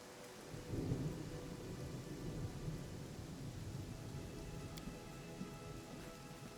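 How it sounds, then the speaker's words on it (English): A storm in the video game Pathfinder: Kingmaker gives steady, faint rain on surfaces with low rolling thunder beneath, constant throughout. "Oh, the storm's still going."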